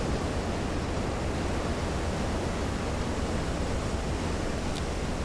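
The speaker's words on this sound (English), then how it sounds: "The waves are too high." A heavy, steady roar of high ocean waves and surf rushes on without letup around a surfaced U-boat in the WWII submarine game Silent Hunter 3.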